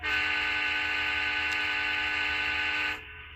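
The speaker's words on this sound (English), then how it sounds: "For Atlas locomotives, if you click 12, you'll activate the horn." Steady, loud horn of an Atlas DCC model train locomotive, a sustained electronic tone holding for about three seconds before cutting off abruptly.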